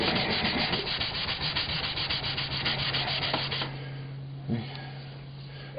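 Close, steady back-and-forth rubbing of 320-grit sandpaper by hand on wood, dense and continuous for several seconds, then easing off with a few lighter strokes and a low hum beneath.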